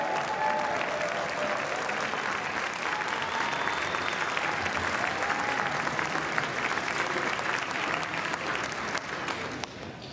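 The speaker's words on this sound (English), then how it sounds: "Stop clapping." Sustained applause fills the House chamber during a roll-call vote for Speaker, a dense, steady wash of clapping from a large crowd that holds at full loudness throughout without letting up.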